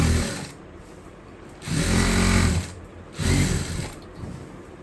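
A sewing machine stitches the lining of a frilled girl's frock in bursts. Its motor whirs loudly and close, with a steady mechanical rattle that swells, eases off and starts again.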